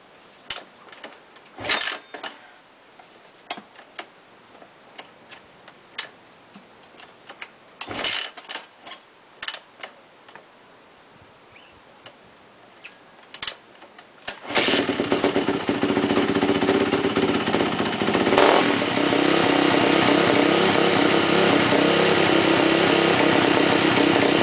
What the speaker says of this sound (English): 2001 Wr426. I'm starting it up right now. Takes a couple kicks.